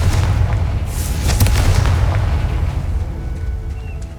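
A Confringo fire-blast spell going off in Hogwarts Legacy: a loud, rumbling explosion that swells early and then fades into a lingering low roar.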